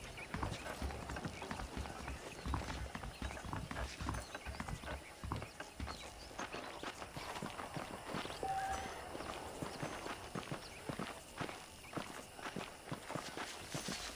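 Steady clip-clop of horse hooves walking on hard ground in the video game Red Dead Redemption, a continuous even rhythm of hoofbeats close by with no talking.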